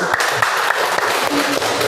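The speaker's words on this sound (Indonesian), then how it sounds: "Beri tepuk tangan untuk kelompok 1." Classmates applaud a student group after its classroom presentation, a close, steady burst of many hands clapping with sharp individual claps standing out and faint talk underneath.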